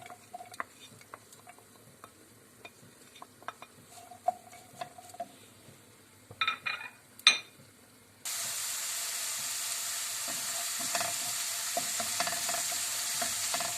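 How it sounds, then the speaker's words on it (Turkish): Quiet stirring and clinks for several seconds, then a loud, steady sizzle of chopped dry onion frying in hot vegetable oil while making tas kebab, continuing to the end. "Sıvı yağımız kızdıktan sonra içerisine doğramış olduğumuz bir adet kuru soğanımızı ekliyoruz."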